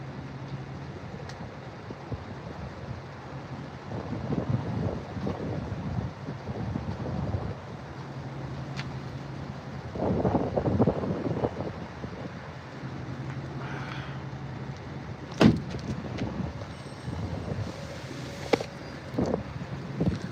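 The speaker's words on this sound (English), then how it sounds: "It's windy." Wind buffets the microphone in low, rumbling gusts that swell and fade, with a few sharp knocks; no talking.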